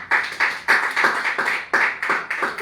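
A church congregation claps in steady rhythm for the Lord, about nine crisp, even claps in quick succession, close and fairly loud with no talk over them.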